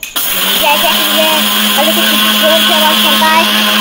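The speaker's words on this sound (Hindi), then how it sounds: "मेरी मॉम में मिक्सर में चावल पीस रही हैं।" A kitchen mixer grinder grinds rice in a home kitchen, starting with a jolt and then holding a loud, steady whirring motor drone with a faint rattle, running on its own throughout.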